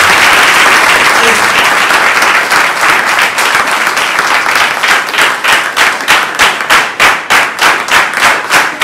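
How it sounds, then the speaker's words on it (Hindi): A church congregation claps together during a worship session, loud sustained applause that settles into a steady, rhythmic unison clap toward the end. "फिर एक बार पिता पुत्र और पवित्र आत्मा के लिए ताली बजाएं।"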